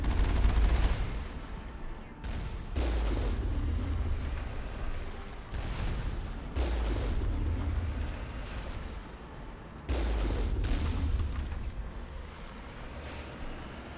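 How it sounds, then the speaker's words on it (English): Missiles launch at players in the co-op sci-fi shooter Mass Effect, with four heavy booming blasts spaced a few seconds apart, each fading into a long rumbling tail over constant background noise. "they're shooting missiles at us"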